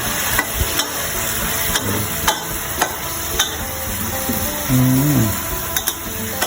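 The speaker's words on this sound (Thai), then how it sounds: "ใบกะเพราครับพี่น้อง คนให้เข้ากัน" Minced pork and holy basil leaves stirred together in a hot pan for pad kaprao, constant loud sizzling under regular scraping strokes of a spatula, with a brief sliding metallic squeal near the end.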